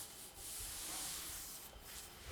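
Hands rub and press tea leaves against a hot wok, giving a soft, steady, dry rasping sweep with slight surges, faint and close, with no talking.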